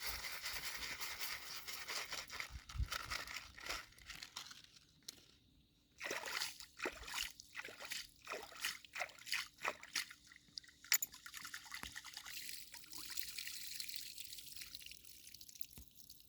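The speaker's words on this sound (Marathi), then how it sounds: "मी तांदूळ धुवायला धरणाचं पाणी वापरतोय" Dam water drips and splashes in soft irregular bursts as rice is swished and rinsed in a container, fairly quiet and close.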